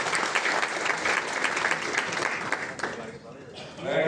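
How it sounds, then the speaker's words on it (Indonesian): A crowd applauds for the Indonesian police at a KONI national working meeting in the Jakarta Convention Center, with dense clapping that fades after about three seconds as a voice begins to speak. "Tepuk tangan dulu buat Polisi Indonesia"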